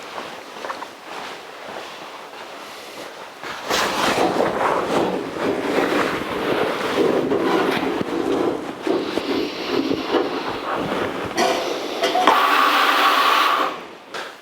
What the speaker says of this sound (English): we'll now clean up the outside to the sandblaster